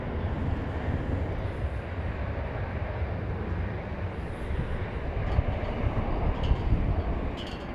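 American Airlines jet rolling for takeoff on runway 18 left at Dallas Fort Worth Airport, a broad steady engine roar from some distance, holding loud and even throughout with no talk.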